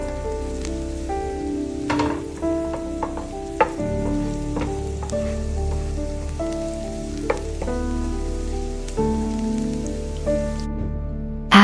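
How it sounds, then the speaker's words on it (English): Garlic sautéing in a pan before minced pork goes in for an eggplant stir-fry, a steady close sizzle with clinks of utensil stirring and scraping, the frying constant throughout. "Saute the garlic until fragrant."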